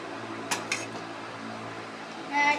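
A metal spoon clinks and scrapes against a bowl of tamarind, with two sharp clinks near the start and a scraping rattle at the end, close by and moderately quiet.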